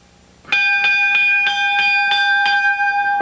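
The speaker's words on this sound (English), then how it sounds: "Bell signifying we have one participant in there, but not two." A wrestling ring bell rings out loud and near, struck about six times in a steady rhythm roughly every third of a second. Each strike has a bright metallic clang with a lingering ring, and there is no talk over it.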